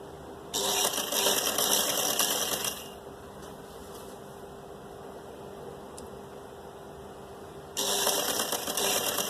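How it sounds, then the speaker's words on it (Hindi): A sewing machine stitches suit and blouse fabric together in two close bursts of fast, steady whirring and rattling, with a quieter motor hum between the runs and no one talking. "और इस तरह से दोनों को मिला के आप सिलाई लगाते जाएं।"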